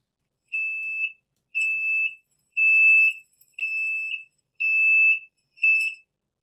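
Denoised recording of the warning beep on an SBB RABe 523 train: six clean, evenly spaced electronic tones, each about half a second, against near silence.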